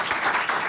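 Audience applause in a studio during a Nigerian call-in talk programme: a brief, dense burst of steady clapping from a group, heard alone without voices.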